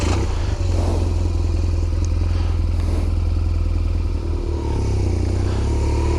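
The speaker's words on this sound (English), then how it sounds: "back to the bike and a ride of the area." A motorcycle being ridden, its engine a steady, loud low drone with rumble and wind noise throughout and no talking.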